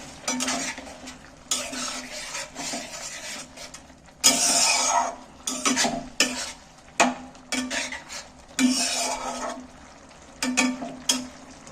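Eggs are stirred into a spice masala in a pan, with a sequence of loud, irregular scraping strokes of a utensil against the metal over a low sizzle, close up and without talking.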